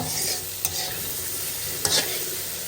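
Cumin seeds frying in a pan for a prawn and cauliflower curry give a steady close sizzle, broken by two short scraping stirs, with no one talking.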